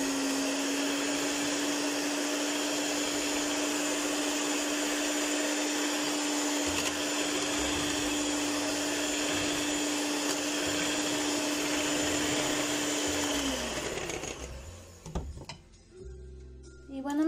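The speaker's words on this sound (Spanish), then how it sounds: "Vamos a batirla hasta que eleve totalmente su volumen. Vamos a comenzar con una velocidad baja y la vamos a ir subiendo de poco en poco" An electric mixer whips homemade whipping cream sweetened with powdered sugar, a steady, loud motor whine holding for a long stretch before it slows and winds down, leaving brief clatter.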